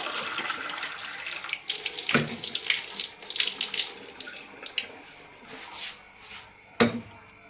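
A kitchen tap runs water into a sink in a steady close stream, with occasional clinks and splashes of dishes being rinsed.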